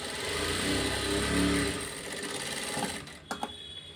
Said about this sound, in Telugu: ఇప్పుడు నీట్గా స్టిచ్చింగ్ చేసుకోవాలి